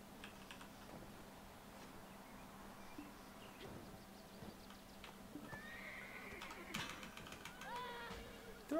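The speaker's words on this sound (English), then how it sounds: "Take hold of the horse." A horse in the online game Black Desert Online whinnies and snorts over faint hoof clip-clops and soft keyboard typing, a quiet game soundtrack with a sudden sharp noise at the very end.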